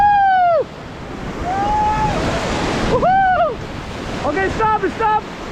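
Whitewater rapids on a river at Rishikesh during rafting, loud rushing and splashing with wind buffeting the microphone, while voices whoop and call out in short bursts over the water.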